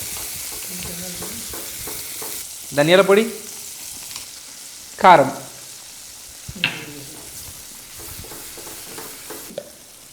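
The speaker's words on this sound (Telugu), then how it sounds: "సో దీన్ని మంచిగా నూనెలో కుక్ చేసుకోండి." A paste of coconut, onion and peanuts sizzles and fries in hot oil for an egg curry, a steady close crackle with a few louder stirring bursts and a person talking over it.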